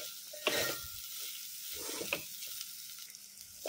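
Val bean pods being sautéed in a pan, a soft steady sizzle broken by a few scraping stirs of a spoon, fairly quiet and close.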